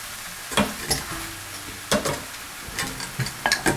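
Noodles and vegetables sizzle in a hot pan while being stirred and tossed, with sharp scraping clatters every second or so.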